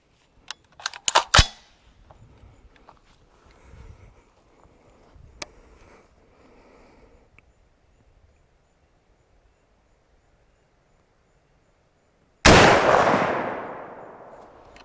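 A .450 Bushmaster rifle with a Bear Creek Arsenal upper fires at a watermelon outdoors: one loud, sharp shot with a long echoing decay after quiet ambience and a few earlier faint clicks.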